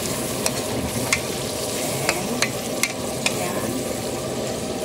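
Potatoes and carrots fry and get stirred in a pan alongside chicken liver and gizzard with egg. There is a steady broadband sizzle with several sharp spoon scrapes and clicks at irregular intervals, and a brief voice at the start.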